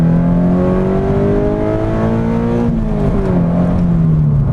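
A Subaru BRZ pulls hard at full throttle in second gear, its engine note climbing steadily and loudly from inside the cabin, with a brief dip before rising again.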